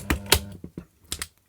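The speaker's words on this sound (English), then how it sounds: "unplug things, you can hear relays clicking inside" Relays click inside an automatic generator changeover switch, a short run of sharp, dry clicks in quick irregular pairs, close and fairly quiet.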